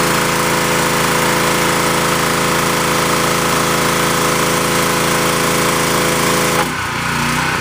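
A Generac pressure washer blasts water onto a driveway with a loud, steady engine-driven roar and hiss at close range, cutting off abruptly near the end to a quieter idle.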